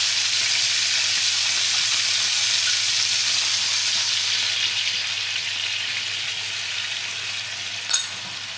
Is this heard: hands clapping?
no